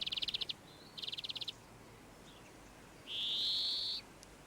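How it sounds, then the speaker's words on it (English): Greenfinch song outdoors in a garden setting: two bursts of loud, rapid trilled notes, then a long drawn-out wheezing note, clear and fairly close. "These are greenfinches, common in town and country gardens. Their song is a loud, rapid trill."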